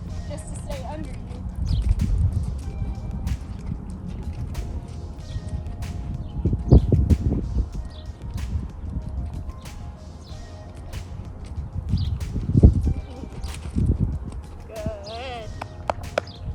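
Horse hooves thud on an arena surface as the horse is ridden in a circle during a spring tune-up, a soft irregular rhythm of steps under steady talking and some faint bird calls.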